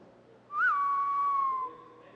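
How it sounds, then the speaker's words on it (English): A whistle from the Overwatch McCree Deadeye sound set plays as a single clear, sustained note with a brief upward swoop at the start, fairly loud and alone, lasting about a second. "a somewhat reminiscent whistle"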